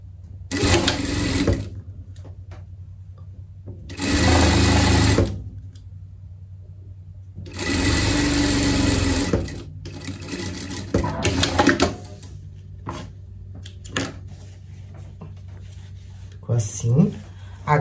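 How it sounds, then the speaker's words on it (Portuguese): A sewing machine stitches elastic onto a chef costume for a dog in three loud, close bursts of rapid whirring stitching, separated by quieter pauses with fabric handling and faint clicks. "vai começar costurando aqui, onde não tá o elástico pregado"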